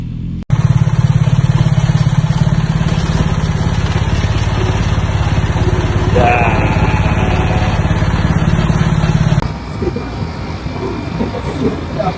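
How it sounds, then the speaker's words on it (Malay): A motorcycle engine idles nearby during a stop on a group ride, a loud, steady low drone with a buzzing whine that holds for about nine seconds, then cuts off, leaving quieter background noise. "Ni tak tutup enjin ke apa?"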